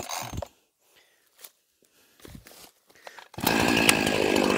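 A chainsaw cutting chestnut tree branches bursts into a loud, close, buzzing rev after a quiet stretch of scattered rustles and footsteps.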